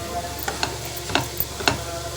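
Prawns frying in oil for chemmeen masala fry, a steady soft sizzle with a handful of sharp scraping stirs spaced about every half second.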